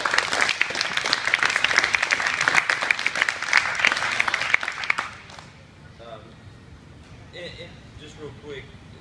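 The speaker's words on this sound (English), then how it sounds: "So big round of applause for those two." Loud, dense clapping from a crowd at a jiu-jitsu academy for medal winners, sustained for about five seconds before cutting off abruptly, followed by a quieter room with a few voices speaking.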